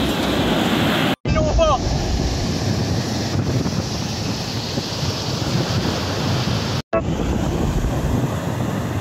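Loud, steady roar of strong ocean surf at Infanta, Quezon, and wind buffeting the microphone, continuous throughout with two brief cutouts.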